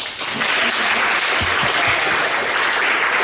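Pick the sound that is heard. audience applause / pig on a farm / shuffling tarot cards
audience applause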